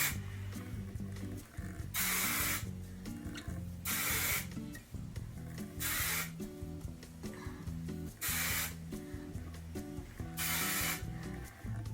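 Verb Ghost Dry Oil is sprayed into lifted hair in five or six loud, hissing bursts of a second or so each, close up, separated by soft rustling and handling of the hair.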